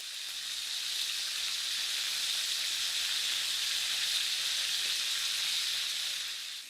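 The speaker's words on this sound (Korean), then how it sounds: "버터 넣어주시고요. 이 버터를 끼얹어. 고기 위에" Butter sizzling in a hot pan as it is spooned over a beef tenderloin steak, an even, moderately soft hiss holding steady throughout without talk.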